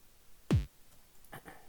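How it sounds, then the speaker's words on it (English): A synthesized chiptune kick drum built in Serum from a triangle wave that pitches down, heard as one loud, short downward-sweeping thump with a faint trailing blip afterward. "It's pretty much just a triangle wave pitching down."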